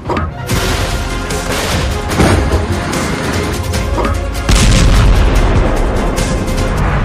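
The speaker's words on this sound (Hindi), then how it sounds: "ये 155 मिलीमीटर के गोले हैं जो बड़ी तोप से फायर किए जाते हैं" Continuous heavy booming and rumbling with dense crashing bursts throughout, sustained fire of 155 mm artillery shells from large guns, growing louder near the end.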